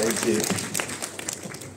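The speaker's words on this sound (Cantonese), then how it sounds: "特別嘉賓啊，俾掌聲佢有好遠啊！" Cinema audience applauding a special guest at a film screening in a Tsuen Wan theatre, a dense wash of clapping under crowd noise and overlapping voices throughout.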